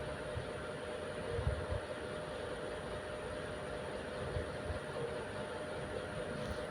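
A sewing machine runs steadily while stitching along the folded lining edge of a saree blouse neckline, a continuous mechanical hum with no voices.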